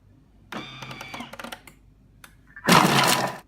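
A Thermomix blade whirs through garlic and onions at speed 5 for about three seconds. Clattering, ticking bursts come first, then a loud, steady, close chopping roar that stops abruptly.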